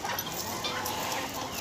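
An Aseel rooster clucks on a farm, a close, continuous run of low throaty clucks with no pause, heard alone.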